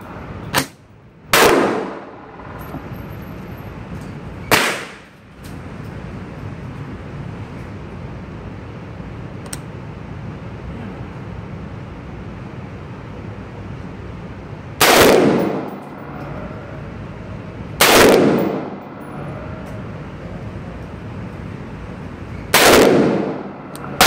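An AR15 rifle firing suppressed and unsuppressed: six sharp, loud single shots spaced several seconds apart, each with a short decaying tail over a steady background hiss.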